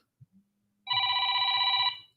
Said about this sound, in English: I hear the phone, but I don't see it ringing